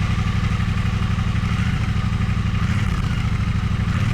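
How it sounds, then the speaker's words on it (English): A bobber motorcycle with its stock exhaust idles steadily with a low, even rumble and a faint clattering texture, running continuously throughout. "The sound of the original stock exhaust already sound good compared to other motorcycles"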